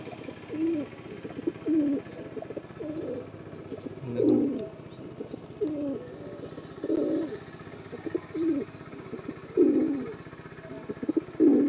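A breeding pair of male and female pigeons of Pakistani bloodline coo in repeated low, throaty bursts, close by and steady, with short pauses between calls and no talking.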